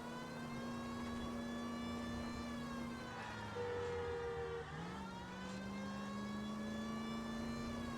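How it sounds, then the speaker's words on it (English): A police car siren in the video game L.A. Noire wails steadily over a constant engine drone, holding a sustained tone that dips and shifts pitch midway, with no voices present. "I guess for these I'll turn on my siren."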